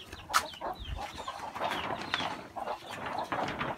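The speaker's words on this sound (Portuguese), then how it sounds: "deixa eu mostrar as galinhas que eu botei pra chocar" Brooding hens settled on their nests give soft, scattered clucks and low murmurs at close range, with no one speaking over them.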